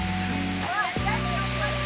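Hidden Falls in Bulusan, Sorsogon roars with a steady, dense wash of falling water, and a voice briefly speaks over it.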